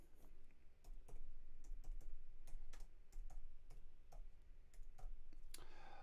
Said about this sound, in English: I love typing with one finger because I have a guitar in my hand